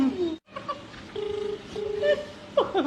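Telephone keypad tones as a number is dialed, a quick series of short electronic beeps in uneven rhythm, with brief laughter and a voice around them.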